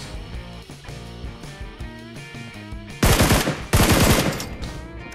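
Gunfire in a battle royale video game: a quieter stretch with game music and effects gives way to two loud, close bursts of rapid automatic fire, with no talking.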